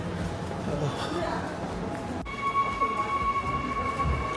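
A train pulls away from a station in South Korea at 6 p.m., a steady rumble with a rising whine and a sustained tonal hum after a sharp transition, heard from nearby.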